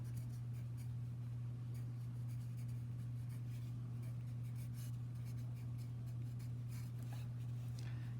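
Pen or marker strokes writing the denominator of a math expression, faint and scratchy, sitting under a loud, steady electrical hum with no talking.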